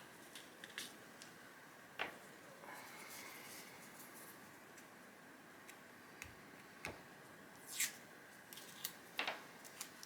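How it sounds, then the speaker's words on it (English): Scissors snip notches into a paper piecing pattern in a quiet room, producing a few sharp, separate clicks spread irregularly over a faint background hiss. "Cut the notches, cut the notches, cut the notches, cut the notches."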